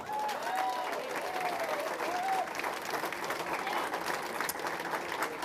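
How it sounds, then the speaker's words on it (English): Sustained, dense applause from an audience at a conservative political rally in White Bear Lake, Minnesota, holding at an even, loud level for the whole stretch with no speech over it. "let's give him a round of applause here"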